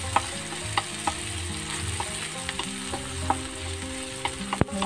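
Bihon noodle ingredients with bay leaf and a little tomato sauté in a large pan, giving a steady loud sizzle with occasional clinks of stirring throughout, and no talk.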